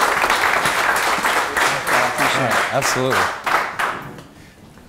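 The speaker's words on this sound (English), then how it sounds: "we'll just give him a quick round of applause and say thanks for coming out." A live audience at a Startup Grind event in Philadelphia applauds a speaker with brisk, fairly close clapping that dies away near the end, while someone speaks over it.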